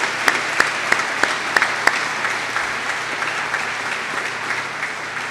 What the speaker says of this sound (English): Let's give them all a round of applause for their contributions.